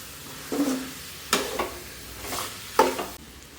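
A mixture stirred and fried in a pan until the raw smell cooks off: soft sizzling beneath three or four distinct scraping spoon strokes, each a short swish against the pan.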